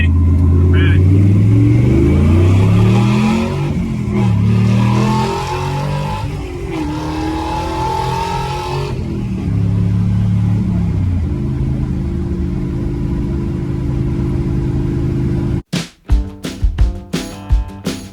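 A 1940 truck with a 12-valve Cummins diesel pulls away in first gear, its engine loud and close as it revs up in rising surges, then settles into a lower drone before sharp knocks and voices at the end.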